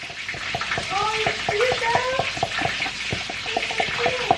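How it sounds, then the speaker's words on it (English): A spoon stirs a sauce of honey, mustard and cayenne pepper in a pan, with rapid rhythmic clicks and scrapes as voices talk in the background. "We're just gonna stir that up together."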